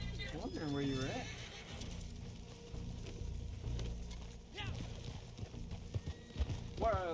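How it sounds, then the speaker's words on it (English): A horse in the video game Red Dead Online whinnies loudly and close up, then hooves clop in an uneven rhythm, with a second shorter neigh at the end and a voice talking faintly underneath. "There you are, horse."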